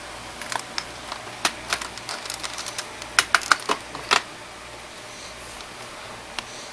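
Keystrokes on a computer keyboard come in scattered, irregular clicks and short bursts, fairly quiet over a soft background hiss, then fade to near silence.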